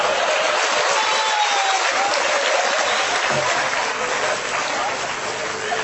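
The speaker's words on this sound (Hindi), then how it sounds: "ताली बजाओ" An audience at a Hindi poetry recitation bursts into dense, sustained clapping that fills the whole stretch at a steady, loud level.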